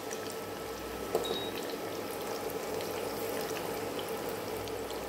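Chicken pieces coated for crispy kaju chicken pakoda frying in oil over a medium flame, a steady, fairly quiet bubbling crackle running evenly throughout with one small pop early on.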